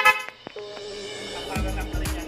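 A Yamaha NMAX scooter horn with a modified passing switch gives a couple of steady honks, close and fairly loud, with brief talk around them.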